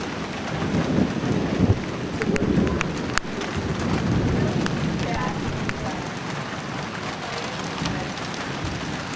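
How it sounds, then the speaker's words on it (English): Steady rain falling outdoors in summer weather, a dense continuous patter close by with scattered sharper drop impacts, and a person talking intermittently over it. "I'm out here in the rain filming it"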